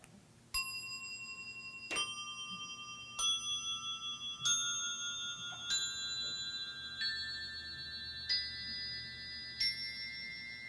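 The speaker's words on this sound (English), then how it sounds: "We're going to check our bells to begin." Montessori bells are struck one at a time, eight clear ringing tones spaced about a second apart, each sustaining and overlapping the next, heard up close in a quiet room.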